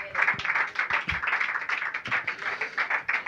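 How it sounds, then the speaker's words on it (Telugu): A congregation at a church service claps their hands in a fairly quiet, uneven patter of separate claps spread across a few seconds, with no voices over it. "చప్పట్లు కొడదామా?"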